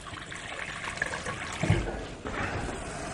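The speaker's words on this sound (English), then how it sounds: "What I will do is I'll add a little bit of water to this." Water trickles and splashes into a pot of bread soup, a short, soft pour with a small splash partway through, fairly quiet against kitchen background noise.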